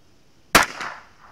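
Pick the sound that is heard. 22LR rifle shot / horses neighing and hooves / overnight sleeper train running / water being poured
22LR rifle shot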